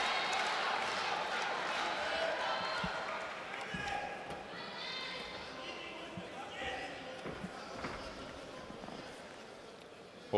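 Crowd noise from spectators at an FNC 9 MMA fight between Matej Batinić and Marcin Lazarz, a steady roar and cheering under a commentator's continuous talk through the clip.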